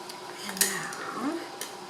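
Metal canning lids are screwed finger tight onto jars of pineapple habanero salsa, making a few brief, close clinks and light scraping taps against a quiet background.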